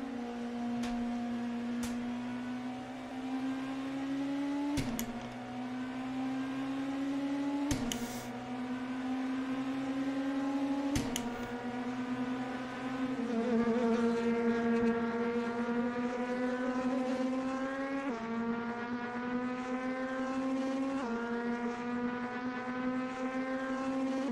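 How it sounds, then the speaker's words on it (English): A high, whining engine of a Volvo S60 TC1 Polestar WTCC race car in Assetto Corsa drones loudly and continuously, its pitch climbing and dropping back as it shifts gears, with no voices. "even the motor of this car doesn't sound right"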